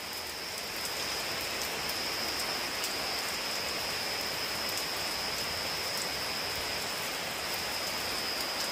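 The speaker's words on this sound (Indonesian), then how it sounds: "Nah, cuaca hujan." Steady rain falls at night in a downpour, a dense, even hiss of drops on surfaces that holds without a break from start to finish, fairly loud and close, with no voices.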